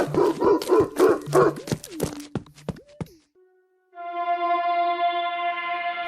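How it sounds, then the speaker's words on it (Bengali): An angry dog barks in a rapid run of loud, close yaps during an attack, followed by sliding cartoon-like tones, a short silence and a sustained droning effect. "কুকুরটা খেপে গিয়ে শাকচুন্নির আরেক পায়েও কামড় বসিয়ে দিল"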